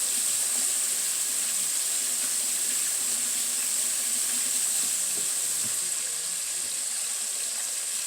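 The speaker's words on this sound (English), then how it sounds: "Wash my hands" A kitchen tap runs in a steady, even hiss while hands are washed with soap, the flow continuous and close with no talking.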